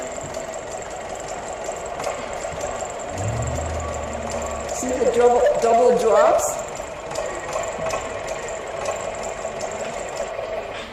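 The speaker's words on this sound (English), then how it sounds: "what you hear in the background is the tractor running" A tractor engine idles steadily in the background at a maple syrup camp, a constant low mechanical drone running under close talk throughout.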